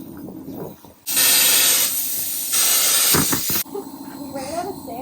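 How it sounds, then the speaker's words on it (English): A spray can of degreaser hisses in two long, loud bursts onto engine parts during an engine assembly, with a brief break between them and voices talking before and after. "I'm spraying the greaser on it."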